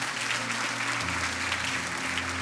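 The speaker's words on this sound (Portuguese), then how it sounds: "Aplauda o Senhor bem forte" A church congregation claps loudly and continuously in a dense wash of applause, with sustained keyboard chords playing underneath.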